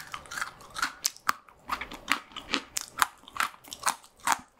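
Crunchy corn puff snack from a Korean convenience store bitten and chewed close to the mic, a steady run of crisp crunches about every half second with no talking.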